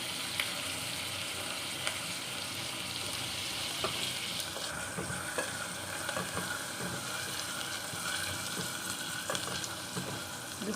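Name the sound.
curry leaves frying in a pan for sambar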